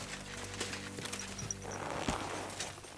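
Horse hooves clip-clop in the medieval video game Kingdom Come: Deliverance II, a steady walking rhythm of soft thuds over a low ambient hum, moderately quiet with no talking.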